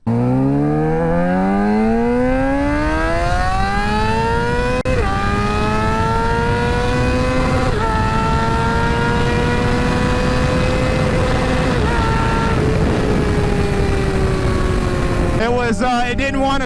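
A motorcycle accelerating hard through several gears, its engine note climbing in pitch, dropping briefly at each shift, then climbing again. It is loud and continuous, with steady wind rush throughout.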